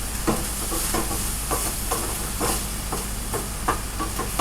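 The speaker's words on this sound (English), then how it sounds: "Stir our mushrooms." Mushrooms sizzle and hiss steadily in a hot pan while a utensil stirs them, scraping and knocking in an irregular rhythm up close, with no voices.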